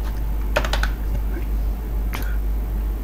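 Typing on a computer keyboard while entering a spreadsheet filter, two short clusters of quick close key clicks over a low steady hum.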